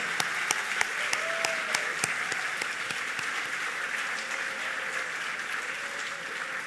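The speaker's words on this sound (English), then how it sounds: "Let's give them all a big round of applause" A crowd at a gold medal gala applauds steadily, many hands clapping in a continuous wash with a few sharper claps standing out near the front.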